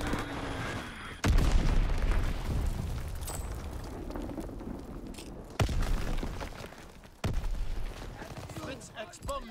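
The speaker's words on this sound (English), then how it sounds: "Enemy bomb incoming." Bomb blasts in Call of Duty WW2 game combat, several heavy booms hitting abruptly over a continuous rumble of gunfire and battle noise, loud and close, with game voices talking in between.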